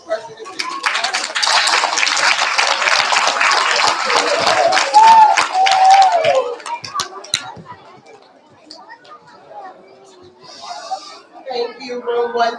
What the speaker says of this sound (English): Round of applause for Perfect Attendance.